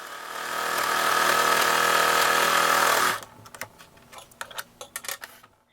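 A sewing machine runs a seam along a fabric rat hammock with a continuous close, loud whirring buzz for about three seconds, then stops, followed by scattered clicks and handling taps of the fabric and machine.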